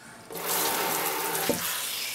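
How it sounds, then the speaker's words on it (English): Water from a kitchen tap starts suddenly and pours into a pot of chopped cabbage, a steady close gushing that fills the pot with no speech over it. "we'll take the cabbage and we'll fill up the cabbage as well"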